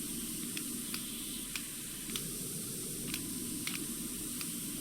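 In the PowerWash Simulator Warhammer 40K game, a pressure washer fitted with a green nozzle sprays on a Land Raider tank, making a steady loud hiss with faint ticks scattered through it and no talking.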